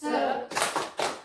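A group doing the rhythmic 'tepuk semangat' spirit clap at a parents' session: three quick, close bursts of hand clapping in a short pattern.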